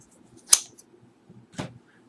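Scissors snip through crochet yarn twice, a sharp close click followed about a second later by a softer second cut, in an otherwise quiet room.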